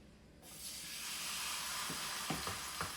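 Squash pancake frying in oil in a pan over a low flame, a steady close sizzle that starts abruptly and continues throughout, with a few brief clicks of movement near the end.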